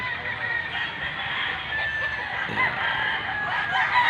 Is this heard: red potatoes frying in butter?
no